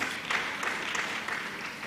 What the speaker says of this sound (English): A hand clap for him, please.